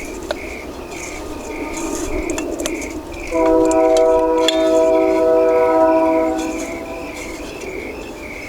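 Union Pacific freight train passing outdoors, a rumbling roll with a loud sustained multi-tone horn blast in the middle, crickets chirping steadily throughout.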